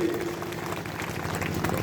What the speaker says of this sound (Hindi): जोरदार तालियां नरेंद्र मोदी जी के लिए